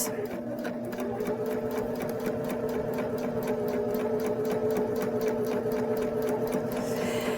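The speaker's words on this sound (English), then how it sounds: "I'm going to continue to guide that coil underneath that ridge on my presser foot, and I'm going to stitch to the opposite end." A Baby Lock Jazz II sewing machine runs steadily, stitching a coil zipper under the presser foot in a rapid, even mechanical hum with needle clatter, close and continuous without pause.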